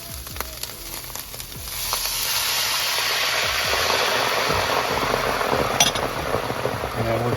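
White wine hits a hot pan with fresh thyme while cooking chicken piccata. After a quieter opening with light clinks, a loud hissing sizzle bursts up and holds steady, with occasional utensil taps.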